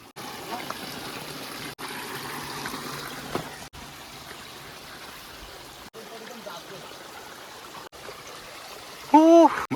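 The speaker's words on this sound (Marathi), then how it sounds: "हे सगळे वॉटरफॉल आहे" A waterfall and flowing water near the railway dam at Igatpuri make a steady, close rushing wash that runs throughout with a few abrupt cuts. A short, high tonal call rises over it near the end.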